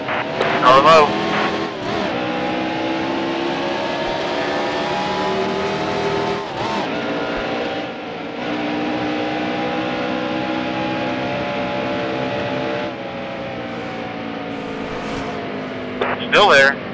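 Race car engine droning steadily nearby with shifting revs and brief sharp bursts, heard under spotter radio talk.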